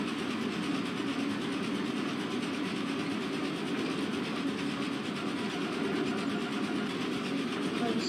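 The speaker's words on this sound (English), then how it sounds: "Okay, I want this train to stop right here." A train in the brawler game Gang Beasts rolls on with a steady, even rumble and clatter that holds unbroken throughout at moderate loudness.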